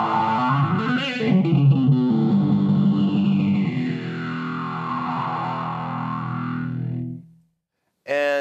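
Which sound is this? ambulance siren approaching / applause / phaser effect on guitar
phaser effect on guitar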